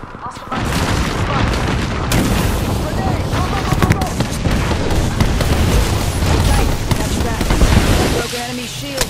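Sustained gunfire in the battle-royale shooter Apex Legends, dense bursts of loud shots and booms over a roaring background for several seconds, with game voices and talk mixed in.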